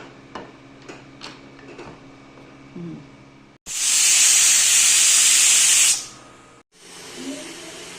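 A pressure cooker cooking rice and dal khichdi lets off its steam in a loud, continuous hiss lasting about two seconds, cutting off sharply, then a fainter hiss follows; earlier, light ticks and clinks sound in a quiet kitchen.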